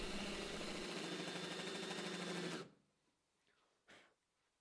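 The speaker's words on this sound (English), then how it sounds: "I will just use my Dremel tool to gouge out most of the material" A Dremel tool gouges wood from a popper lure, giving a loud, buzzing, steady grind for a couple of seconds before stopping abruptly, followed by quiet room noise and a short knock.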